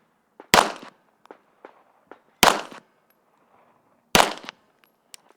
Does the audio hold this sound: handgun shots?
yes